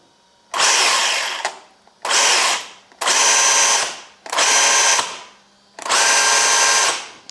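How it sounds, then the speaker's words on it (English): A cheap electric RC buggy motor whines as the throttle is pulsed, giving five loud bursts of about a second each with brief quiet gaps between them. The sound is close and there is no talking. "And then the throttle,"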